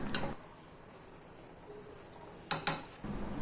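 A spoon stirs dry fish and egg curry with tamarind in a pan, giving a few brief scraping clinks against the metal, with a soft sizzle quietly beneath and a short pause between the stirring bursts.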